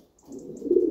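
Pigeon softly cooing at close range, a low murmuring coo building over about a second from a medium-sized young racing bird in a loft.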